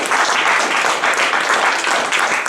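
Church congregation giving a sustained burst of dense, loud applause during a Sunday service, filling the whole moment without a break.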